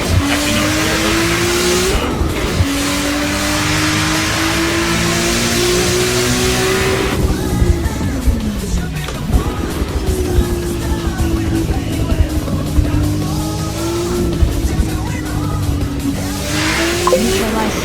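A GT2 race car of nearly 900 horsepower in Assetto Corsa roars continuously and loudly, its engine note rising through the gears and dipping on shifts and braking, with tire squeal mixed in.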